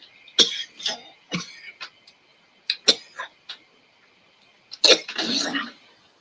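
A person at a microphone breaks into a fit of sharp, explosive coughing, roughly half a dozen bursts that come close and loud, with a longer raspy one near the end.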